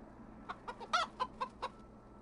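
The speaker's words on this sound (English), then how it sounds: "a sound like a chuckling hen" A hen clucks in a quick series of short, throaty notes, six or seven in a row, fairly faint against a quiet background.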